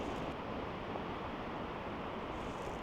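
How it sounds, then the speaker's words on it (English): Strong coastal wind roaring steadily against the microphone at Cape Blanco, Oregon, a constant low rumble mixed with surf-like noise, with no voices. "But it's been windy the whole time we've been here."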